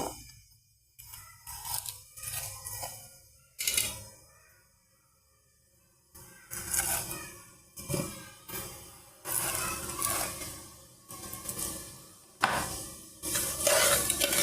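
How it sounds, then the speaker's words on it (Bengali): Dry bran and sugarcane jaggery stirred together in a pan, with irregular close scraping and crunchy rustling bursts separated by brief quiet gaps. "ভালো করে মিক্স করে নেব"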